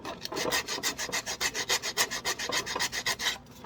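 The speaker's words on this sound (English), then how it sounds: "We're going to sand this head down. We're going to sand the neck, and we're going to sand the head." A small statue head of St. Yosef being sanded with P150 sandpaper, giving steady rhythmic rasping strokes, roughly five per second, close and fairly loud with no talk.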